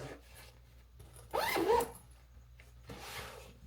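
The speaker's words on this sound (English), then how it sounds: "Now we'll zip it up again." A zipper closes on an Eberlestock Transport 21 pack in a quiet room, a short burst of zipping followed by a fainter second pull, close up with no talking.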